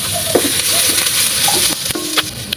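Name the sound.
onion sauteing in oil with garlic in a pan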